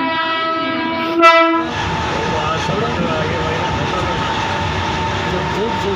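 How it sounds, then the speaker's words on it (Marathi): A train horn blares briefly over a steady rumble, then the rolling clatter and hiss of an approaching train fill Dombivli station. "ट्रेन आली"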